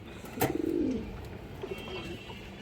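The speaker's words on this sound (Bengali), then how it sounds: "এগুলো কিন্তু পাল্লার কবুতর দর্শক" Paired racing pigeons of the palla type give a soft, rolling coo, one clear call near the start and fainter ones after, close by with no talk.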